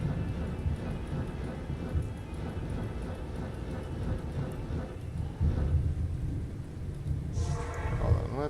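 Steady rain and a low rolling rumble of thunder from a Diablo 2 thunderstorm form a dense, continuous wash at moderate loudness with no talking.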